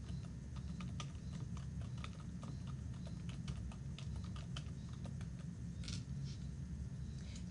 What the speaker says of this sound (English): type a few words from the title of the article you want to track into the first box